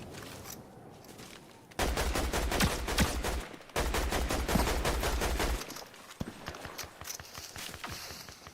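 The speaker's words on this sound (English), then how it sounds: "I'm hearing all kinds of snipers." Video game gunfire, with bursts of rapid shots that come in dense, loud clusters, separated by short quieter gaps with scattered single cracks, heard close up.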